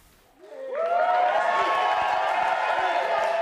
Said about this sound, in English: The crowd erupted in cheers at Minneapolis City Hall